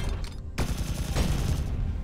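Heavy weapon fire from a Gauss cannon in the game Sublevel Zero, loud, dense bursts filling the whole stretch, with a sharp onset after a brief dip.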